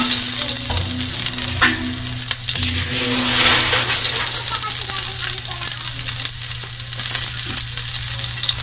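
Ginger, then onion, frying in hot oil, a steady loud sizzle with occasional stirring clatters, close and continuous without talk.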